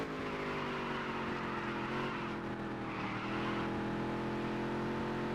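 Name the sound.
modified race car qualifying lap in Dirt to Daytona video game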